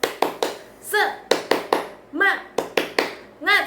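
A class doing rhythmic tepuk semangat spirit clapping, sharp bursts of hand claps in a repeating pattern, alternating with children chanting in unison between the claps.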